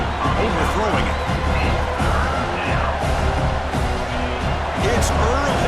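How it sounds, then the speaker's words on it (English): A fired-up stadium crowd at a Syracuse at Miami college football game roars continuously, with dense cheering and shouts over a steady wall of noise, loud and sustained throughout. "It's early, but this crowd is fired up. Listen to this noise here."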